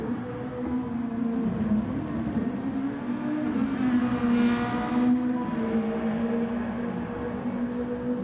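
A GT race car rolls down pit road at the Red Bull Ring in a racing video game during a Super GT round, its engine holding a steady, loud drone that swells briefly at mid-clip.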